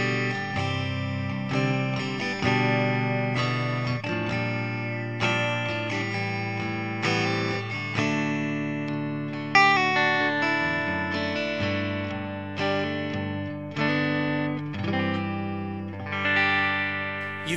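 Electric guitar plays chords and riffs through a PRS tube amplifier with a warm, slightly driven tone and a touch of reverb, continuous and loud, with no talking.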